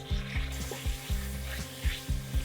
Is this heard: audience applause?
no